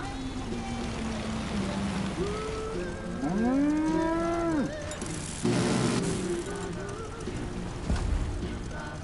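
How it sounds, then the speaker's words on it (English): A cow in the video game Far Cry New Dawn gives a single loud, drawn-out moo amid game ambience, with a brief gush of spray and faint talk around it. "I just sprayed a cow, fam."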